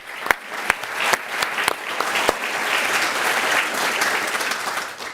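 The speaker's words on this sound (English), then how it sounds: "Let's give them a round of applause." A live audience at a climate talk event breaks into applause, starting with a few sharp, separate claps that swell into steady crowd clapping.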